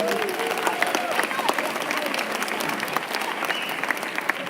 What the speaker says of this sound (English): Let's give our sun and our moon a huge round of applause.